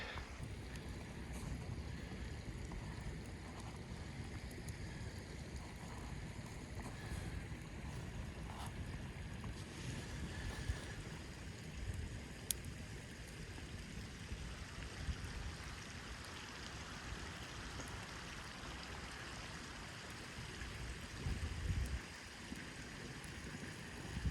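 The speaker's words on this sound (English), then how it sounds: "listen to the creek" Water rushes steadily in a continuous, faint wash, like a creek flowing nearby, with light wind noise and no voices.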